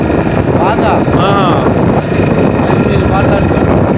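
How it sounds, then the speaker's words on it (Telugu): Strong wind buffets the microphone over a constant roar of breaking waves at the coast by Gullalamoda lighthouse in Krishna district, Andhra Pradesh, with someone speaking intermittently. "బాగా గాలి ఎక్కువ అవుతుందన్నమాట. ఇవి ఇక్కడ కెరటాలు వచ్చేస్తున్నాయి కదా."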